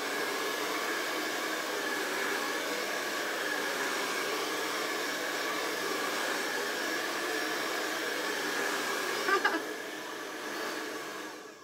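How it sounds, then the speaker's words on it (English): A handheld blow dryer runs continuously at close range over a reindeer craft project, a steady loud whooshing whir that falters briefly near the end. "So I'm going to hit it with a blow dryer"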